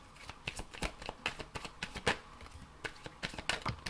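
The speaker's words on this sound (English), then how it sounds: "Two more shuffles." A deck of tarot cards is shuffled close up, a quick series of crisp riffling snaps and flutters in an irregular rhythm, quiet and without any voice.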